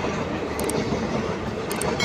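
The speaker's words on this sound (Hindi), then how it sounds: "गाड़ी खुल चुका है तो चलिए ये देखिए नवादा का पहला ट्रेन।" A train pulling out of Nawada station, a steady low rumble of rolling carriages with faint rhythmic clatter, continuous and moderately close.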